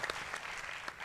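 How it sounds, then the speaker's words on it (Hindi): A seated audience of young people at a spiritual gathering claps together in a brief, faint burst of applause, dense and even. "इनके लिए ताली बजाओ"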